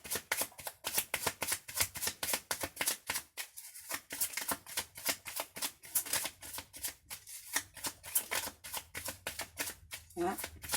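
Tarot cards being shuffled during a spiritual card reading, producing a rapid, close riffling patter with brief pauses, heard alongside someone speaking.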